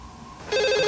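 A telephone breaks in abruptly halfway through with a loud, bright electronic ring that holds to the end, preceded by a brief quiet murmur.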